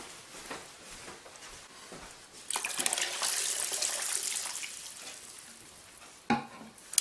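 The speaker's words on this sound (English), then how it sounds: "We're now going to add water" Water is poured into a pot holding tomato paste for Greek lentil soup, a rushing, splashing pour lasting a few seconds before tapering off, with no talking.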